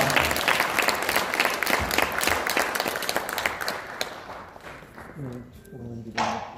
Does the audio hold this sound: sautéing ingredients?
no